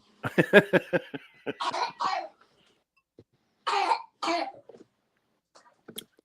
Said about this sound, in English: one of them babies got a bad cough